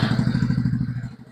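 The starter on a Euro Rapido 110 motorcycle with a weak battery cranks the engine in a steady, rapid chugging rhythm of low thumps, loud and close, fading slightly at the end.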